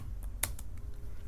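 A few quiet keystrokes tap on a computer keyboard, one sharper click standing out among soft scattered presses over about a second.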